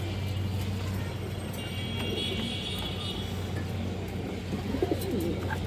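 A silver pigeon cooing in low soft bursts, mostly near the end, over a steady background hum with a faint passing car.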